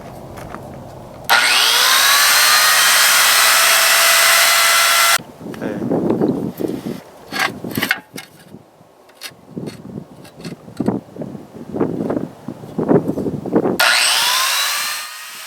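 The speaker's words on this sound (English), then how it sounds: "I start out by cutting the 3 main pieces from the slate tile and then trimming away the excess." A wet tile saw cuts through slate tile in two loud, steady, whining bursts, with a person talking during the quieter gap between the cuts.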